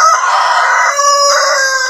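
Farm chickens kept for raising crow loudly and steadily for two seconds, with clucking mixed in and no talk.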